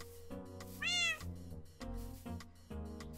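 An ocelot in Minecraft meows once in a rising, drawn-out cry over a steady electronic music backdrop, with game sound effects around it.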